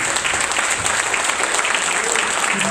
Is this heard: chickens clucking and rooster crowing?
no